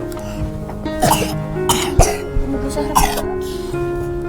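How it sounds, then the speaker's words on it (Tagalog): Several sharp coughs in a row from children, close and fairly loud, with short pauses between them over a steady background hum. "May mga ubo po pala yung mga bata."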